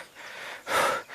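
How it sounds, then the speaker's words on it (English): Heavy, gasping breaths from one person, close and fairly loud, a long drawn inhale followed by a stronger surging breath near the end, with no talking. "Listen to my breathing."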